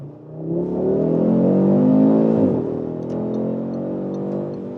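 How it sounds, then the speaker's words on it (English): An Audi sedan in sport mode accelerating hard onto a motorway, its engine note rising loudly and steadily before a brief dip and then pulling on, heard from inside the cabin with no talk. "when there's the next motorway here and I want to accelerate hard on it"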